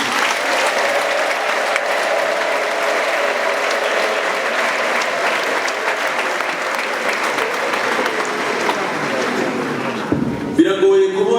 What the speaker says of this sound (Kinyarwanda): munyemerere uyu mwanya mukoreshe neza nsabira amashyi n'impundu bikwiriye Pastor Theogene